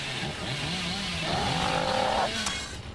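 Hillbilly's chainsaw in Dead by Daylight revving with a loud, steady droning roar that rises to a higher-pitched whine midway, then drops off at the end.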